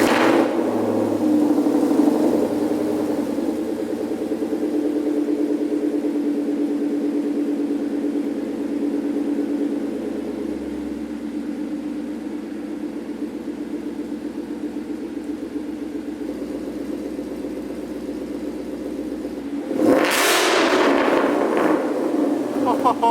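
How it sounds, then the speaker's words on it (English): A supercharged car with a Whipple supercharger and Corsa exhaust idles with a loud, steady, droning rumble, then snaps into a sharp, brief rev near the end. "we're gonna start it up with the Whipple and see what the old Corsas sound like back on the car"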